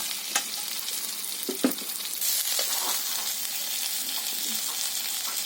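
Pointed gourd (potol) pieces fry in hot oil with ground spices, a dense, steady sizzle with a few clinks and stirring scrapes of a utensil near the start, close and fairly loud.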